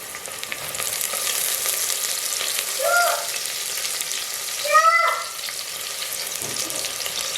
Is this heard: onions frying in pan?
yes